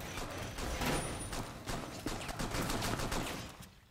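Gunfire in the video game Rainbow Six Siege, a dense run of sharp shots crackling close and steady for several seconds, loud throughout with no talk over it.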